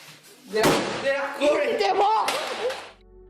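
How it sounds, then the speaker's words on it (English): A door slams shut with a sharp, loud bang, followed by a rough, fluctuating stretch of sound that may hold indistinct voices before it drops to quiet. "A door slams shut on its own with no one in sight."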